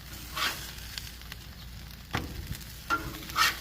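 Pulled pork mulitas sizzle quietly on a Blackstone griddle, with a low steady frying hiss broken by a few sharp scrapes and clanks of a spatula, close by with no talk.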